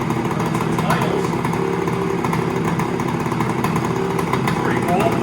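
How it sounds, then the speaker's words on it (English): A 1970 Yamaha 175 Enduro motorcycle engine with a stuck throttle idles loud and close, holding a steady, rattly two-stroke putter throughout while someone talks over it. "The throttle stuck, so it won't really rev it up or anything. It's idles."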